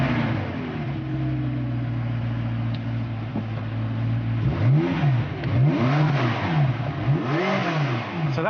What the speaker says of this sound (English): by tuning the exhaust system to get the right kind of mixing between the different cylinders, that gives us the Metallica sound that we were looking for